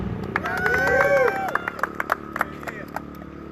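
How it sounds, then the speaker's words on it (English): A short voice opens at the minis runner-up presentation of a TNT Points Event 17 race night, then an audience breaks into scattered, uneven clapping that thins out toward the end. "Let's have a round of applause for Ian."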